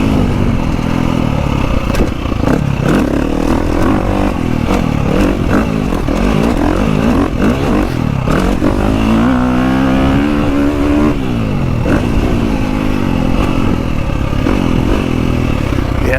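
GasGas 350 dirt bike fitted with a Yoshimura exhaust, engine revving and barking hard through continuous throttle changes, very loud and close, with rider talk faintly mixed in under the noise.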